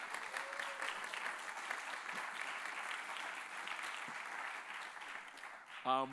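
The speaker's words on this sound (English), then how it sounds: "I think we need to give Caleb Sy one more round of applause." Sustained applause from an audience, steady clapping throughout with no pauses.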